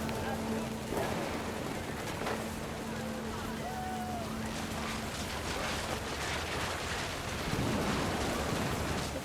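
Rain falling in the video game What Remains of Edith Finch, a constant hiss with low rumbles and creaks beneath, while a voice narrates over it throughout.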